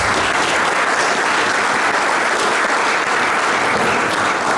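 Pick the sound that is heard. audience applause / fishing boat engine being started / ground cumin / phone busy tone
audience applause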